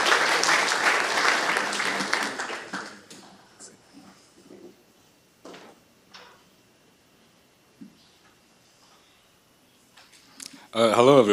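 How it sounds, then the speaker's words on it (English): Audience applause greets the next speaker at a lightning-talk session, dense clapping for about three seconds, then fading to scattered faint sounds and quiet before a brief burst of voice near the end. "Round of applause."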